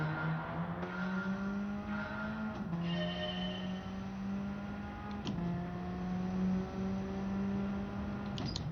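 Race car in Gran Turismo 7 at Brands Hatch circuit, a steady engine drone holding pitch with several distinct gear-change dips and rises, loud and continuous with no talk.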